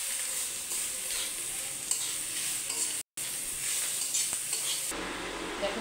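Vegetables for a masala dosa filling frying in a pan, a continuous close sizzle with occasional stirring scrapes, broken by a brief silent gap near the middle.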